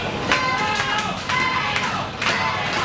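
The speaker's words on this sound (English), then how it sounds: "we got a very, what would you say, vocal crowd on hand here at AWN in Fort Valley, Georgia." A vocal wrestling crowd at an AWN show in Fort Valley, Georgia, cheering and shouting in a dense, continuous roar with periodic louder swells.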